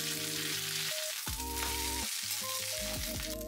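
Pork okonomiyaki, freshly flipped, sizzles in a hot pan with a steady, close hiss, while melodic background music plays underneath.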